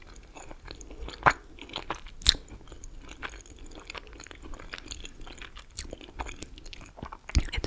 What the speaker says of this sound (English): And now I will taste it.